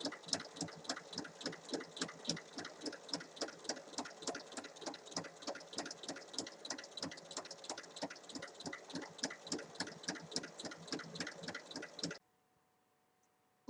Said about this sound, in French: on vient faire une surpiqûre tout le long en repoussant bien la anse